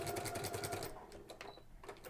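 Sewing machine fitted with a walking presser foot stitching faux leather, a close rapid mechanical chatter of the needle that eases off midway, then resumes in short bursts.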